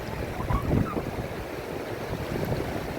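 Strong wind gusts buffet the microphone outdoors beside water, with waves or surf rumbling underneath; a louder rushing swell peaks early, then a steady blustery roar continues throughout.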